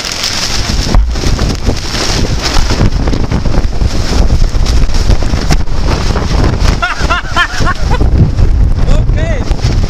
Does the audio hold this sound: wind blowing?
yes